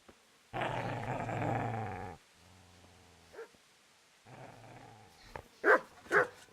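A dog in the medieval game Kingdom Come: Deliverance growls in a long, loud rumble, then falls to low snarls before several sharp barks close the sequence.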